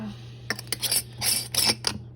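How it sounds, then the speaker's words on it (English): Lid being set onto a bird food storage jar made from a Hobby Lobby bulb, giving several light clinking and scraping contacts of glass or metal in quick succession, close and fairly quiet over a low steady hum. "Let me put the lid on."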